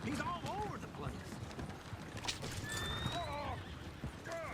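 Horses in Red Dead Redemption 2 whinny repeatedly over steady clip-clopping hooves, busy and close, with game voices talking underneath.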